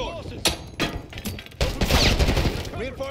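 Gunfire in the video game Call of Duty: Black Ops 6 crackles in several short bursts and a sustained volley, layered with battlefield noise and radio-style voices of soldiers talking.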